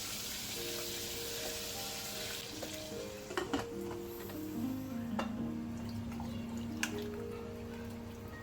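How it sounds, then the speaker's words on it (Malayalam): Chicken fries in a pan for a family lunch party, giving a steady, close sizzle with a few light clinks of utensils, under quiet background music. "ചിക്കൻ ഫ്രൈ ചെയ്യുന്നുണ്ട്"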